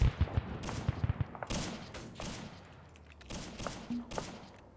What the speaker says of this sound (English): Taking a few marksman shots.